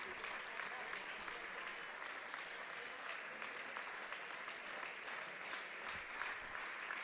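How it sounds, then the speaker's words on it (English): A crowd at an NPL WA football match between Perth SC and Stirling Lions holds a round of applause in remembrance. The clapping is steady and distant and continues throughout, with a commentator talking over it. "the round of applause you'll hear in the background is for"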